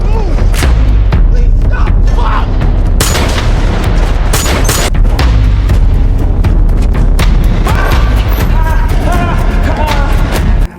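A movie gunfight unfolds as dense, continuous gunfire and heavy booms, loud throughout, while a voice talks over the action.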